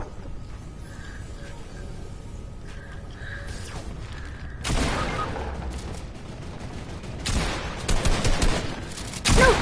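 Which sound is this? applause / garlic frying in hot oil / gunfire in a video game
gunfire in a video game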